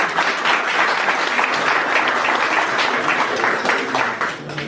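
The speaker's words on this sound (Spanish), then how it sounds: "Por favor, recibámosla con un fuerte aplauso" An audience at a university sociology of law conference, in a law faculty hall, greets a speaker with loud, sustained applause, dense clapping throughout before easing slightly at the very end.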